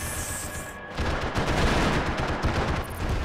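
Max Payne 3 gunfire erupts after a brief quieter stretch, becoming a dense, loud, sustained volley of overlapping shots up close, with no speech.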